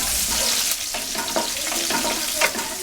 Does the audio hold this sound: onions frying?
yes